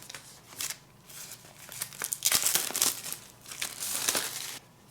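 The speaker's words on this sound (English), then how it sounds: "So now you can just use this pull tab." Packaging of an Apple Pencil 2nd generation is opened by pulling its tab, giving a close, loud run of crinkling, tearing paper and card sounds in bursts that end abruptly.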